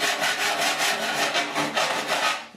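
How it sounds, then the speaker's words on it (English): A metal file smooths grinder marks on a steel patch panel for a 1969 C10 core support. There are about a dozen steady, rhythmic rasping strokes, close and fairly loud, with no talk. "The file will take the bit of waviness of the grinder leaves in there, file it right out"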